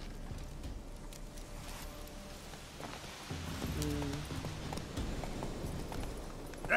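Horse hooves clip-clop in The Witcher 3 game, a faint, steady walking rhythm under ambient outdoor sound.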